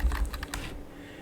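Rapid typing on a computer keyboard, a quick burst of several close, crisp key clicks that fades into quiet, with no voices over it.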